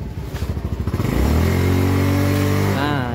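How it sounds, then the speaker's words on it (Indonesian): An automatic scooter motorcycle with a slipping pulley starts up and runs while ridden, its engine pulsing at first and then rising into a loud, steady drone that holds close and alone. "Oke, kita tombol starter. Oke, motornya hidup ya."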